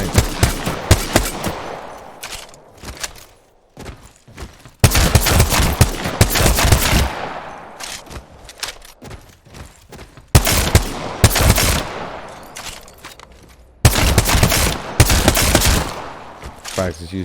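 Rapid gunfire from Apex Legends rings out at a practice range, with several loud sustained bursts and single shots separated by short pauses, sharp and close throughout.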